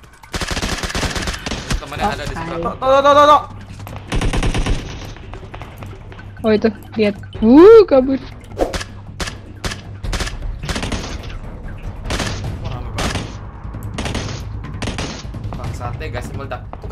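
Rapid bursts of automatic gunfire and single sharp shots ring out during a PUBG Mobile match, some close and some farther off, while players talk excitedly over the shooting.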